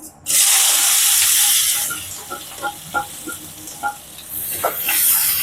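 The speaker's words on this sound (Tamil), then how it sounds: "இப்போ நல்லா வெங்காயம் வதங்கட்டும்" Onions, cinnamon and cloves sizzle loudly in a hot pan with a hissing burst at the start, then a few soft knocks of a spoon stirring before the sizzle swells again.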